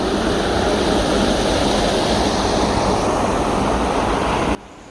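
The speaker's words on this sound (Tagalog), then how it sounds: "Ito namang patubig na to, papunta to doon sa imbakan ng tubig sa may baba." Clear river water flowing steadily at the Pacalat River in Mayatarem, Pangasinan, a continuous broad rushing wash heard up close and alone, cutting off abruptly just before the end.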